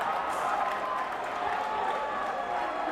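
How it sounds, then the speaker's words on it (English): A rugby crowd at a Falsebay schools final roars and cheers, a dense steady wash of voices and applause throughout with no breaks. "The Falsebay crowd absolutely ecstatic."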